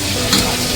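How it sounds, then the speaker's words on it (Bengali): Fish frying in fresh oil in a busy kitchen at Digha, a steady close sizzle with stirring and a brief louder burst near the middle, no talk. "আমাদের মাছ ভাজা প্রায় শেষ, লাস্ট ছিল দেওয়া হলো"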